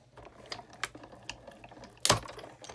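A Big Shot die-cutting machine cranks a die through with a series of faint clicks and ratchet ticks, then ends in one sharp, louder mechanical clack.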